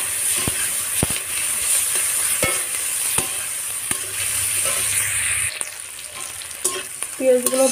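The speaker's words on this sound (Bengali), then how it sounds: "পেঁয়াজগুলো ভাজা ভাজা হয়ে গিয়েছে," Chopped onions fry in a pan with a dry, dried red chillies and cumin, giving a dense, hissing sizzle. A spatula strikes the pan in regular sharp taps, and louder scraping comes toward the end.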